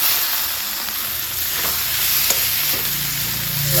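Chicken frying with cumin powder and chicken masala in a pan, a loud continuous close sizzle with a few faint stirring scrapes, no talk.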